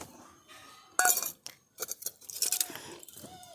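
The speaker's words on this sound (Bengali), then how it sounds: "মশলার বাটি ধোয়া জলটা আবার দিয়ে দিচ্ছি" A spice bowl clinks as rinse water is poured from it during home cooking of a river fish dish: two or three sharp, close clinks separated by quiet gaps and faint pouring.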